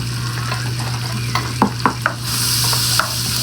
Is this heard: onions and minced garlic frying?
yes